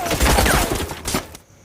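A burst of sniper gunfire from a war film about fighting between India and Pakistan: loud, close, dense shots for about a second and a half, then cut off abruptly.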